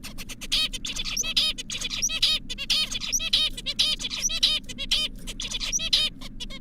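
A songbird sings its adult crystallized song, rapid repeated chirping syllables in quick rhythmic phrases, clear and fairly close over a low background hum.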